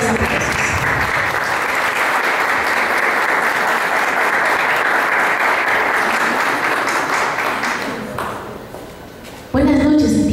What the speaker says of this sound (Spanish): a quien la vamos a recibir con fuertes aplausos.